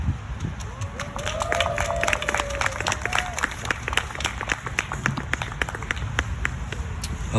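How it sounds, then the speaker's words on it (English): Applause and cheering fill a rally crowd for students in Cherry Hill, a dense wash of many hands clapping steadily throughout at moderate distance, with occasional voices and shouts rising above it. "Can we just give another round of applause for all of these students?"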